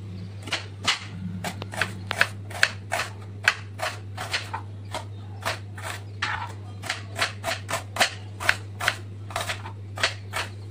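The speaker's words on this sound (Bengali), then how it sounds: "রোলের জন্য আমি পেঁয়াজটা কেটে নেবো।" A knife chops an onion on a board for chicken rolls, with a steady series of sharp, close, evenly spaced thuds running throughout over a constant low hum.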